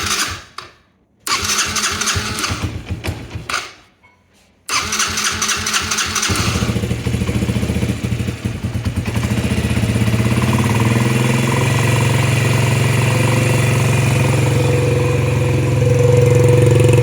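Yamaha Raptor 80 ATV with a freshly cleaned carburetor sputters through a couple of short cranking attempts with gaps of silence, then catches and settles into a steady, loud, close idle.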